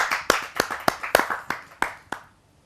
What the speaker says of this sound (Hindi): आप सबकी जोरदार ताली।